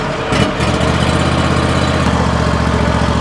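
Grasshopper riding mower engine running after the key is turned: a loud, steady close-up drone with a brief surge near the start, then a constant idle with no talk.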